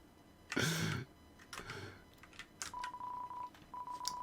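A landline phone being dialed in the video game Deltarune: a soft click, then a few short buzzy bursts and steady electronic dial tones in two stretches, quiet and without talk.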